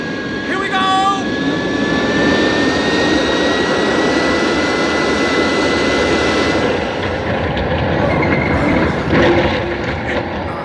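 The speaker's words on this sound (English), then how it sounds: "Stand by for crash landing." A spacecraft crash landing on the Moon in an old radio-style drama: a loud, steady engine roar with rumbling noise and faint tonal whines, holding level throughout with a brief swell near the end.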